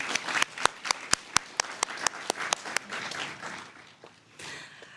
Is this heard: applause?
yes